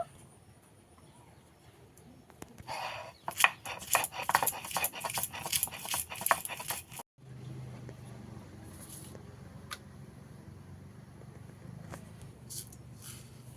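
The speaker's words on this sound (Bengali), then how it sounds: "আদা রসুন আমি একসঙ্গে দিয়ে বেটে নেব।" Ginger and garlic are ground together on a grinding stone, a fast burst of rhythmic scraping and knocking strokes over a few seconds, then a quieter stretch with faint scattered taps.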